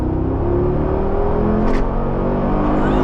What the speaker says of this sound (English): hopefully you can hear that coming through the exhaust there